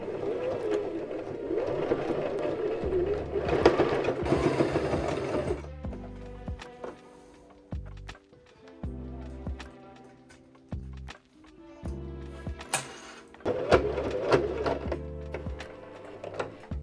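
Home sewing machine straining to stitch through a thick leather Paul Smith jacket, with bursts of fast whirring stitching alternating with slower, labored, stepwise needle strokes and pauses, close and moderately loud.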